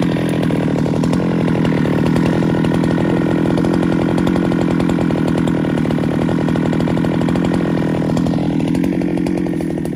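A Husqvarna-style G395XP chainsaw cuts through wood, its engine screaming loud and close at a steady high pitch for the whole stretch, with no voices.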